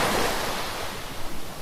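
Ocean waves break on the shore in a steady, full wash of surf, close and loud with a soft wind-like hiss and no voices.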